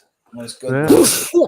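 A person sneezes once up close in the middle of casual conversation, the burst rising sharply out of nearby voices, with speech continuing right after.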